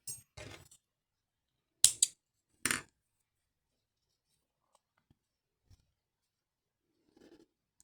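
Close, crisp snips of scissors cutting thread while making a bear pacifier clip, a few sharp clustered cuts over the first three seconds, then near silence with faint handling ticks.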